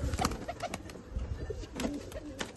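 A 14-year-old pigeon coos in a short series of soft, close murmuring calls, with faint rustling and background noise around them.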